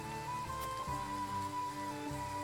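Steady rain in the video game Triangle Strategy, a soft continuous patter heard alone with faint tonal game music sustained underneath and a few small splashy clicks.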